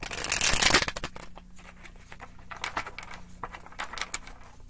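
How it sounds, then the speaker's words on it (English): A deck of tarot cards being shuffled by hand, a brisk riffle burst at the start followed by softer, irregular card slides and taps, close and fairly quiet, with no speech. "I'll try to get one more good shuffle out of it"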